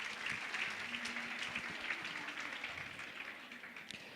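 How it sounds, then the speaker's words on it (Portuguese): An audience at a talk about studying medicine abroad applauds, a steady wash of many hands clapping at a moderate distance, slowly fading. "Uma salva de palmas para eles."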